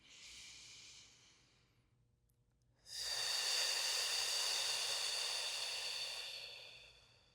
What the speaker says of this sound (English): you're going to take 2 deep breaths, really breathing into the thumb side of the hand